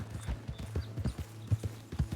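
Rhythmic clip-clop of horse hooves trotting steadily at close range in the video game Red Dead Redemption 2, with a low steady hum underneath.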